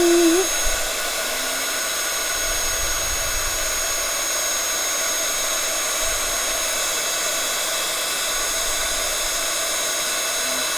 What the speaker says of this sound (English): So now I'm just going to heat set that.